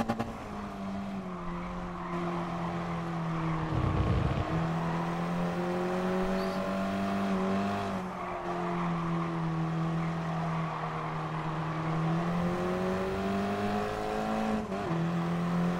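A racing car engine in GT Sport at Willow Springs drones steadily at high revs, its pitch dipping briefly as the throttle eases around four seconds, then climbing again alone for the rest of the stretch.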